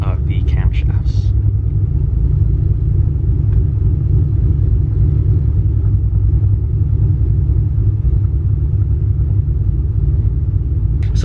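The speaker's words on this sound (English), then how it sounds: "let you guys hear the idle of the camshafts" Heard from inside the cabin, a car fitted with hot rod camshafts idles with a loud, deep, steady rumble that throbs continuously. Brief speech sounds at the very start.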